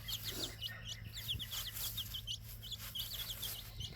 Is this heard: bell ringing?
no